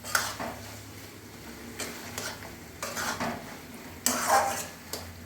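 A curry of drumsticks, potato, tomato and poppy seed paste is stirred in a metal pan with scraping strokes and clinks of a utensil over a soft sizzle. A louder scrape comes near the end, and no one speaks.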